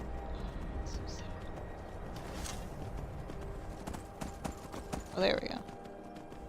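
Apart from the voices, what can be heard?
horse hooves galloping in the video game Skyrim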